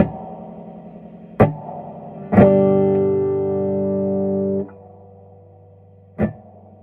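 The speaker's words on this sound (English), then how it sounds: "That's almost a delay effect." Electric guitar through a mouse-infested Silvertone 1484 amp under repair: sharp plucked notes, one sustained chord that wavers with tremolo and rings out with echoing delay repeats before cutting off.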